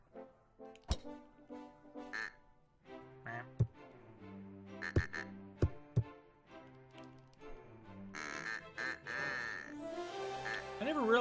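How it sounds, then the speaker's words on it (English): Ducks in the video game Golf Story quack in rhythm with a tuneful game melody, short nasal quacks and sharp taps repeating in time with the music, growing busier and louder toward the end. "I never realized the ducks kind of like quacked in time with the song."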